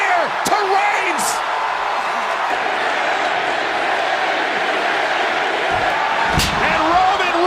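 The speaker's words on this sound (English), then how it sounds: "With a spear to Reigns" Roman Reigns takes a spear in the ring at a WWE SmackDown event, followed by a roaring arena crowd that swells in a steady wash of noise with a couple of sharp impact bursts.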